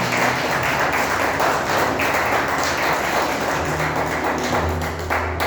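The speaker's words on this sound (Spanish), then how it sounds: "Denle un fuerte aplauso al Señor" A church congregation claps loudly during a Spanish-language service, a thick, continuous wash of applause and taps filling the whole stretch with no talk on top.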